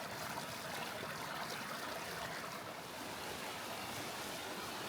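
A mountain stream rushes steadily through a rocky gorge in Vorarlberg, carved after a glacier retreated, giving a continuous broadband hiss of flowing water, close and even throughout with no voices.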